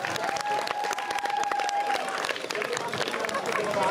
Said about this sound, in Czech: zaslouží si potlesk